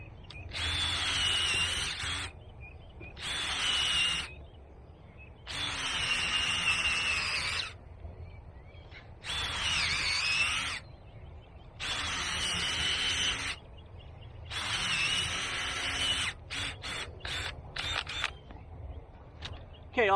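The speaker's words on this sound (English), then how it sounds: "I'm going to take my auger right here." A power auger drills into and loosens garden soil in a mulched bed, whirring loudly in about six separate bursts of a few seconds each, with short quiet gaps between them, then a rapid run of brief on-off pulses near the end.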